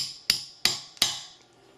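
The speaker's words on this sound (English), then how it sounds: "Just need a hammer and just a punch." A hammer taps a punch against the magazine catch of a Desert Eagle pistol, three crisp metallic strikes in quick succession, close and ringing briefly after each hit.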